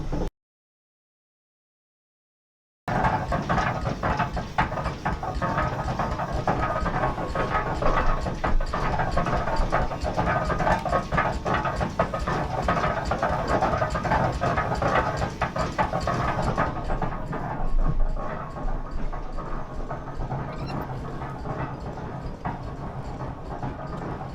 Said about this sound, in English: a demonstration of how this machine actually moved logs through the forest